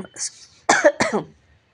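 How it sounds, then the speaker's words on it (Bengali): A person coughs twice in quick succession, close and fairly loud, after a short throat-clearing sound. "হঠাৎ আমার কাশি হয়ে গেল, সরি।"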